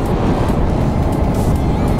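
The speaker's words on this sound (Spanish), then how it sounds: "hace un ruido increíble la moto bicilíndrica y de vez en cuando pega ese ese pedo petardazo" A Yamaha MT-07 two-cylinder motorcycle engine running on the road, giving a steady, loud, dense rumble that fills the whole stretch without letup and without talk.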